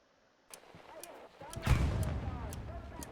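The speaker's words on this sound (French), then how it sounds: "Diablo, j'ai balancé une grenade là-bas" A grenade explodes in the Hell Let Loose shooter game, a muffled mid-distance blast with a rumbling tail, amid scattered distant gunshots.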